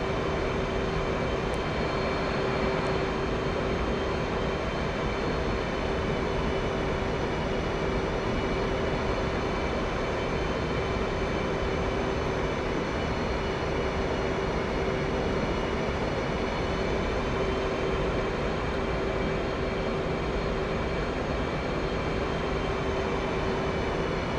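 Continuous loud roar of an F/A-18C jet engine under thrust in the DCS World flight simulator, a steady broadband rumble with a constant tonal whine, unbroken throughout.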